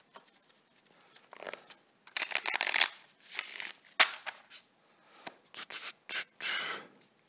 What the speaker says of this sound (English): I'm going to shuffle these cards up a little bit.